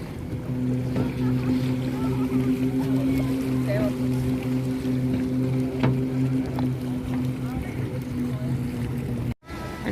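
A fishing boat's engine drones with a steady low hum on a lake in Italy, continuous and moderately near, with faint water and ambient outdoor sound around it.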